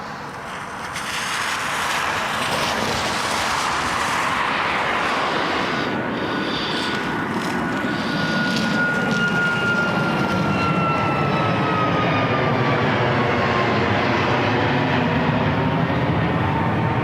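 Lufthansa airliner at snowy, cold Toronto Pearson airport, a steady loud roar of jet engines swelling and holding with a rising whine, close by and continuous, no talk.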